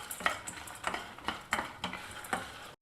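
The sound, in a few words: dals, red chilies and sesame seeds roasting in a pan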